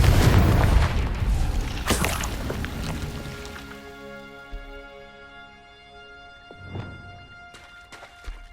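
A Confringo explosion spell cast in the Hogwarts Legacy video game: a loud blast up front that rumbles and fades into a ringing tonal tail, followed by a few softer thuds and impacts later.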